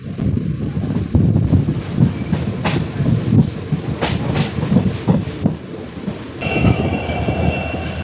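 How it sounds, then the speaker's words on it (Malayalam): A passenger train rolls into the platform at Punalur railway station, its loud rumble and rhythmic wheel clatter heard from aboard with wind buffeting, ending in a high metallic wheel squeal. "പുനലൂർ പ്ലാറ്റ്ഫോമിലേക്ക് ട്രെയിൻ കയറുവാണ്."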